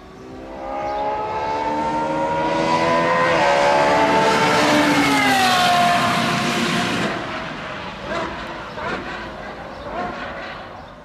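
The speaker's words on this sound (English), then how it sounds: "because of the incredible sound that the V12 produces" A V12 hypercar engine wails past at high revs on a race circuit, pitch rising then dropping as it passes, loud and sustained before fading away.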